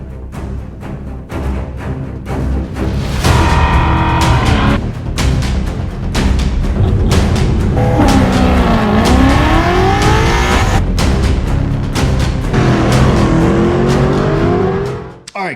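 Tuned car awaiting a retune, engine running rough as it revs repeatedly, loud and close, with rising and falling pitch sweeps and sharp bursts over about fifteen seconds, no talk.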